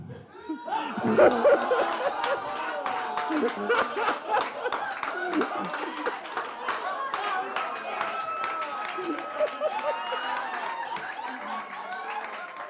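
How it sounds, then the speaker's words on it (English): A comedy club crowd at a stand-up roast in the Red Door Tavern, West Columbia, South Carolina, gives a sustained round of clapping mixed with chuckles and laughter, with voices talking over the applause throughout. "Everybody give a round of applause for Renado real quick."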